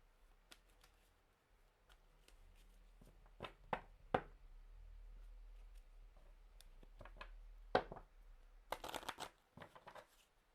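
Tarot cards are shuffled for a reading, giving soft riffling flutters and sharp snapping slaps close by in a quiet room, irregular bursts building to a rapid flurry at the end.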